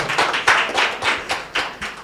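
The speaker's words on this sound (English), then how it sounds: "I think he deserves a round of applause." A small audience at a tech product launch gives a brief round of applause, a handful of separate, close hand claps in an uneven rhythm that fade out within two seconds.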